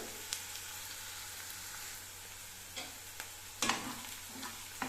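Tomato paste sautéing with onions in a pan for a green peas fry, a faint even sizzle with occasional scrapes and taps of a spatula, close and quiet with no talking.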